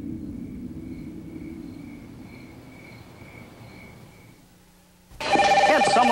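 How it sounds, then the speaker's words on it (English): Telephone ringing in a 1992 TV commercial, a faint repeating electronic ring in even pulses over a low murmur, cut off by a loud sudden burst of sound. "Someone pick up my phone."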